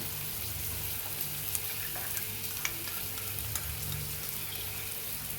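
Buttered pav bread toasting in a pan gives a soft, steady sizzle throughout, with a few light scrapes and taps of a utensil.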